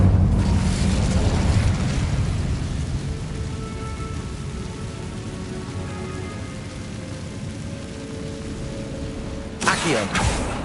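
Incendio fire spell in the Hogwarts Legacy video game, a loud rushing blast that roars and crackles like heavy rain, fading into a lingering hiss before a second burst near the end.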